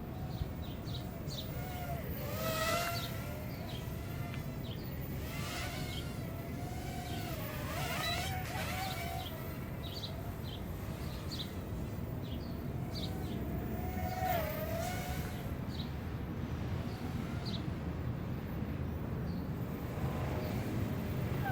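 A Top Race TR Q510 remote control aircraft makes quick passes outdoors, its faint high motor whine rising and falling as it sweeps by several times over steady background noise and insect-like buzzing.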